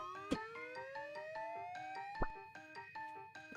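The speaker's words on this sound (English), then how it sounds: "Can't they at least change the siren sound?" Wailing emergency siren from the mobile game Trickcal Chibi Go, a steady rising electronic tone with a pulsing pattern that keeps going throughout, loud and close, with two sharp thumps mixed in.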